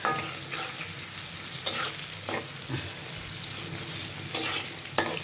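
Pieces of duck meat fry in hot oil, giving a loud, constant sizzling hiss with occasional stirring scrapes and crackles close by.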